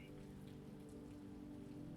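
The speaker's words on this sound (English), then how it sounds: "The rain's rhythm receded behind the wooden door, transforming into a gentle background lullaby." Gentle rain falls steadily on a surface behind a wooden door, a faint continuous patter with a low muffled hum beneath it and no voices.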